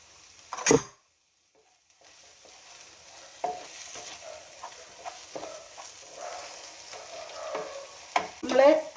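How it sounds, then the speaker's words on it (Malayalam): Sliced onions sauté in a pan for prawn biryani, a soft, close sizzle punctuated by stirring scrapes and a sharp clank near the start, quiet overall with louder stirring toward the end. "സവാള ഒന്ന് നന്നായിട്ടൊന്ന് വഴണം"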